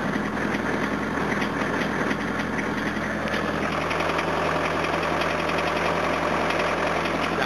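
A rough idling engine misfires and seems to overfuel, giving a continuous mechanical clatter with uneven knocking pulses and a steady low drone throughout, close and fairly loud, with no voices.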